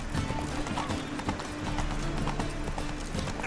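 Galloping horse in The Witcher 3 video game, a rapid, continuous clip-clop of hooves over a dense, noisy game soundscape, with a faint neigh.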